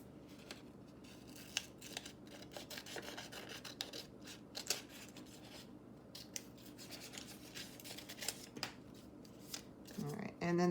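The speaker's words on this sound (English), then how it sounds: "So then I can cut that out." Scissors snip through paper to cut out a shape, a run of quick crisp cuts and rustles repeating throughout at close range, fairly quiet.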